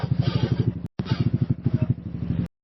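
A Honda Forza 250 scooter, stalled by a small battery problem on a two-day ride to Cameron Highlands, is left idling with a close, steady, throbbing engine pulse that cuts out briefly, then resumes.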